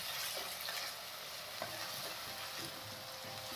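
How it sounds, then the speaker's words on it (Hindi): Grated ginger and raw turmeric frying in an oil-filled pan, a steady close sizzle with soft stirring scrapes running throughout, no talking. "ये देखिए अब कर लेते हैं 3 मिनट इसे अच्छे से फ्राई।"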